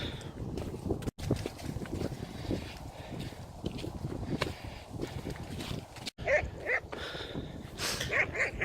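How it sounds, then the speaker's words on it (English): Dogs on a walk across a field, with faint scattered barks, yips and whimpers over outdoor ambience, rustling and footsteps, fairly distant and low in level. "the dogs are nuts"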